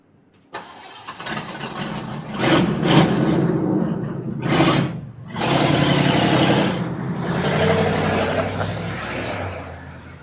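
A 1976 Ford F100 farm truck engine cranks and catches, then revs loudly in several rising surges before settling into a rough idle, close by with no talking.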